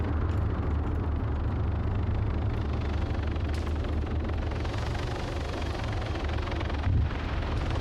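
A military helicopter in a video game roars steadily and close, its low rotor thrum and engine drone continuous and loud throughout, with no voices over it.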